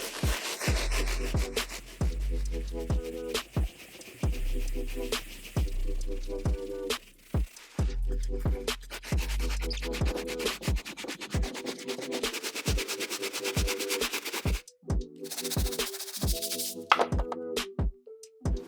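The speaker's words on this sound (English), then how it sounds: "Then use your premium brush to clean." A stiff premium brush scrubs cleaning foam into the uppers of a Yeezy 500 sneaker in quick repeated back-and-forth strokes, close and crisp, with brief pauses between bursts of scrubbing.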